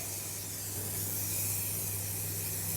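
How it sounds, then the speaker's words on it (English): A continuous hissing spray of oil onto a baking tray, close and steady, sounds for a few seconds without any voice. "I've got a nice baking tray here, which I'm going to spray"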